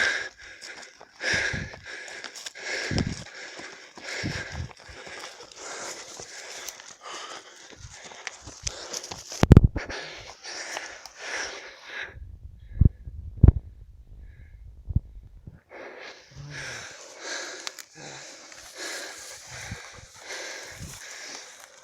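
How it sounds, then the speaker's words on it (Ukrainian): Heavy, rhythmic panting and breathing follows free-fight training at a sports club, close to the listener, with breath bursts broken by a quieter stretch and a few soft thuds. "Відновлюємо дихання."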